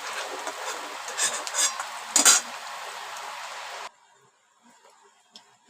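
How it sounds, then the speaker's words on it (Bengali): Fried lentil vadas are lifted out of hot oil amid a steady, close crackling sizzle with a few metallic utensil clinks, before the sound cuts off abruptly to near silence. "বড়াগুলো ভাজা হয়ে গেছে, তুলে নিই।"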